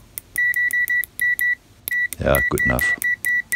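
A BSIDE ADM20 True RMS multimeter emits a run of short, sharp electronic beeps in an uneven rhythm, with a brief gap, while someone speaks over them.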